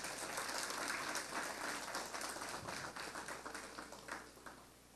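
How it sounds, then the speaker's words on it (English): An audience at a public service event applauds with dense, sustained clapping that holds steady for several seconds and then slowly thins out. "she deserves a lusty round of applause"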